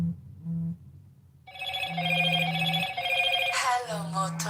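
Motorola 'Hello Moto' ringtone playing from a phone, a bright melodic ring swelling in over a low intermittent tone and quiet background, fairly loud and close.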